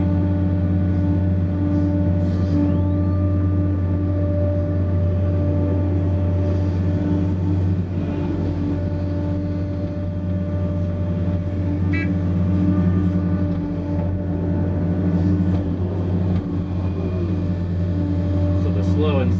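A Hitachi ZX870LC excavator works loading out soft ground while a dozer pushes material nearby: a loud, continuous diesel drone with strong steady engine tones and occasional clanks and hydraulic shifts, and a voice talking over it.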